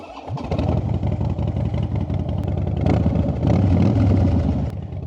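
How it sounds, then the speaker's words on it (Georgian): A Harley-Davidson FXDWG Dyna Wide Glide motorcycle fires up and settles into a loud, close, lumpy V-twin idle with a steady throbbing rhythm and no talking. "მოგეთ დავქოქოთ ჩვენი Harley"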